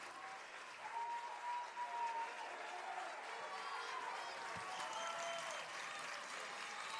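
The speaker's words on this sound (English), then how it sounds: "the Bulldog faithful making some noise here, clapping their hands" Softball fans clap their hands in a steady, dense wash of applause from the stands, filling the space at a high school state championship game, with crowd murmur blended underneath.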